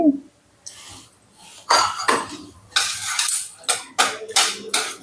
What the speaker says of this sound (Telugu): విస్కర్ తోటి బాగా మిక్స్ చేసుకోవాలి